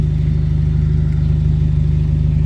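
A car engine idles through a street-legal exhaust with a resonator, a loud, steady low drone with an even pulsing throb and no voices.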